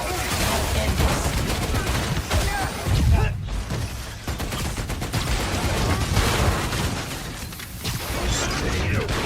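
Dense gunfire and combat effects from the video game Marvel's Spider-Man Miles Morales fill the scene with continuous loud bursts, crashes and mechanical clatter, with game voices mixed in.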